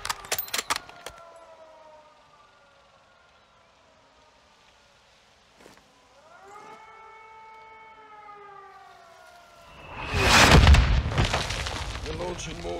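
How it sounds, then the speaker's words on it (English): Mortar fire in a Call of Duty Modern Warfare 2 (2022) battle: a siren wails steadily for several seconds, then a loud, close explosion booms and rumbles for a couple of seconds, with a voice heard briefly before it. "You're launching mortars."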